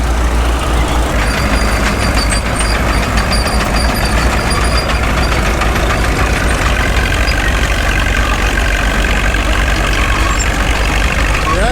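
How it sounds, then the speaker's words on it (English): Old IH tractor engine lugging down under load while pulling a subsoiler through the ground, a loud continuous low rumble with steady mechanical clatter. "you can hear the old engine lug down when he sticks her in the ground"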